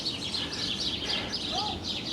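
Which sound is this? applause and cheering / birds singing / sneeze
birds singing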